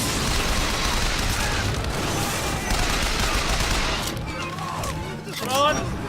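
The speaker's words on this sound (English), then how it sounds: "just follow the machine gun fire" Video game machine gun fire in Bioshock Infinite: a dense, loud burst of rapid shots and booms that fades into scattered echoing bangs and whooshes near the end.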